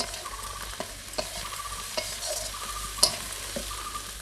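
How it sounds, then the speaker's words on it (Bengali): Garlic paste and chili powder sizzle steadily in a hot pan for a silver carp fish curry, with a spoon scraping and stirring at irregular intervals, close and clear, with no talk. "মশলাটা কষাবার জন্য একটু জল দিয়ে দিচ্ছি।"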